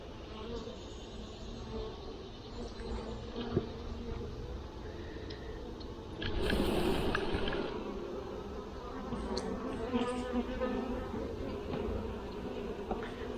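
Honey bees buzz continuously around open hives during a honey harvest, a soft, steady swarm hum that swells louder for a moment midway, with occasional handling knocks.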